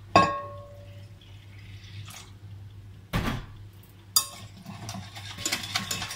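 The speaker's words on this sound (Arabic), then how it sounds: "اضيف له شوية مي واخلطه" A spoon stirs and scrapes through a small bowl of flour and water mixture with a few clinks against the sides, close and fairly quiet, with no talk.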